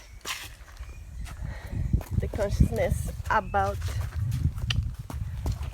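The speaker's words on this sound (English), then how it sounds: "There's some horses that are coming to visit us on our way." Horses walking along a path toward a reserve, soft hoof clops and footsteps scattered across the clip beneath a person talking throughout.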